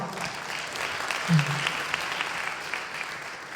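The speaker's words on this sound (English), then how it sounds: "Give yourselves a round of applause" An audience at a labor awards ceremony applauds steadily, a soft diffuse clapping heard at a distance and fairly faint, with a brief voice near the middle.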